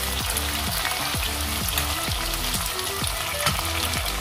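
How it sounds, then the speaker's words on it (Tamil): Onions sautéing in a pan for a dried fish curry with field beans, a steady loud sizzle with rhythmic stirring scrapes about twice a second, no talking. "வெங்காயம் நல்லா வதங்கிட்டு இருக்கு."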